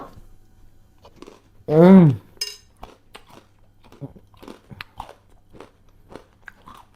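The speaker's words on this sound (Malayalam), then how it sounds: "അതിന് കൂടെ ഈ നുറുക്കിൻ്റെ കറുമുറ രക്ഷയില്ല കേട്ടോ" Crisp crunching from a snack being bitten and chewed up close, short sharp bursts repeating, with a brief voiced sound early on.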